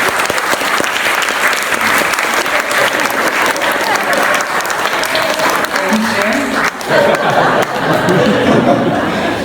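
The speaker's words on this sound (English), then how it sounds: "Give a big round of applause." Sustained applause from a crowd at a book launch fills the whole stretch, loud and steady, with some chatter and light laughter mixed in.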